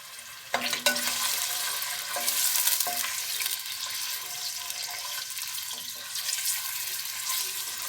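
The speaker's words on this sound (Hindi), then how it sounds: "आधा प्याज डाला है चावलों में। अब इसे ब्राउन करेंगे।" Onion browns in hot oil with rice in a pan, giving off a steady hissing sizzle. Occasional scrapes and taps of a stirring spoon sound up close, with no voices.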